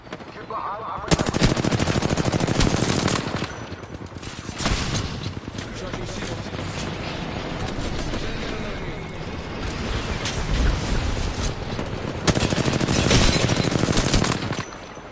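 Rapid automatic gunfire in the video game Apex Legends, loud sustained bursts of rattling shots with short pauses between volleys and mechanical clatter in the gaps.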